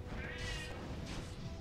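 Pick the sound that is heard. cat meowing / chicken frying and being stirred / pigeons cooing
cat meowing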